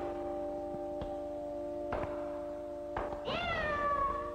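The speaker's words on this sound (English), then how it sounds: "I stepped on my cat's tail." A cat cries out with a strained, rising yowl after its tail is stepped on, near and fairly loud, preceded by a few soft knocks against a steady tonal hum indoors.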